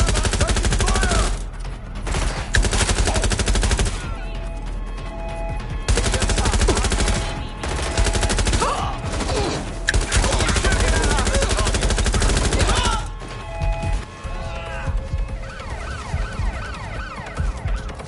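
Rapid bursts of machine gun fire ring out across a combat firefight in the game Watch Dogs Legion, loud and close, repeating in long rattling volleys with brief pauses, mixed with shouted voices and other battle noise.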